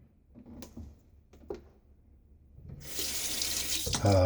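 Water runs from a kitchen or bathroom tap to wet a shaving brush, a steady close rush that starts after a few faint clicks and knocks and keeps flowing to the end.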